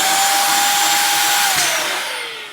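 Electric balloon pump blowing up balloons, a loud close motor whir with a steady high whine that drops in pitch and fades near the end as the motor winds down.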